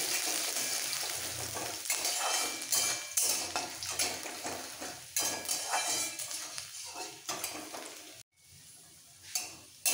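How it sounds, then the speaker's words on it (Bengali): Chopped garlic cloves frying in a pan give a bright, steady sizzle, with a metal spatula repeatedly scraping and clinking against the pan up close; the sizzle fades briefly near the end, and no one speaks. "সেই কুচনো রসুন কোয়াগুলো দিচ্ছি। খুব ভালো করে একটু ভেজে নিতে হবে।"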